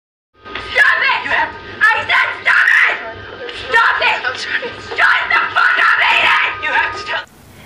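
A girl screams in the horror film The Lodge, with several loud, shrill, drawn-out cries in close succession, broken by short gasps, then cut off abruptly.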